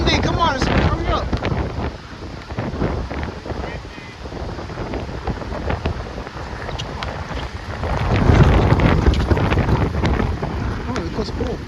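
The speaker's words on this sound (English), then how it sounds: "Yo, guys, it's getting windy." Gusty wind roars and buffets the microphone on an outdoor basketball court, rising and falling in strength throughout, with faint voices at times under the rush.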